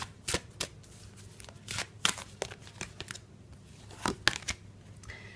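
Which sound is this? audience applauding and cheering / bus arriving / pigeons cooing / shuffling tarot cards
shuffling tarot cards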